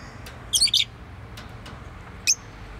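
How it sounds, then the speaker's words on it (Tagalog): A pet lovebird lets out a few short, high chirps, a quick cluster of three followed by a lone call, faint against a soft indoor hum with no speech. "Kumanta ka, bird. Kumanta ka para masaya."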